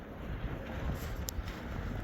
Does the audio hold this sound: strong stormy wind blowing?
yes